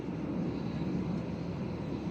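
Cabin noise aboard a passenger airplane in flight between Kannur and Thiruvananthapuram, a steady low engine drone filling the whole stretch without break.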